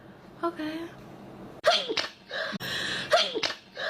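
Several loud, sharp sneezes burst out in quick succession during a sneezing fit on a livestream, close to the microphone, with a brief spoken word mixed in.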